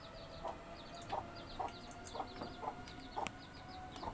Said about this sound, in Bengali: এই যে দেখেন এখানে একটা মুরগি ডিম পাড়তেছে।